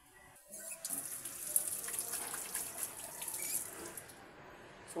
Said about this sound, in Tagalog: Hugasan ko lang ng liquid soap ang o-ring.